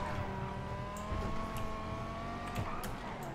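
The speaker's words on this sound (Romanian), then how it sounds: "Mamă, da, puține mașini accelerează aici." Several cars accelerating in Grand Theft Auto V online multiplayer, including a tuned car, with engines droning and revving steadily throughout, a continuous moderately loud traffic mix with brief tire noise.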